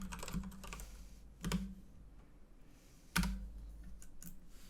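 Rapid typing on a computer keyboard, steady clicking keystrokes with a few heavier key presses, close and alone without speech.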